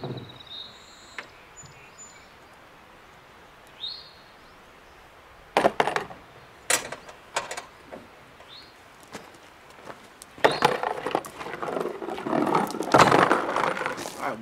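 Bolts removed from a Brinly dump cart and dropped into a cardboard box outdoors in a yard, several scattered clinks and taps at uneven intervals, close but fairly quiet, with faint bird calls in the background.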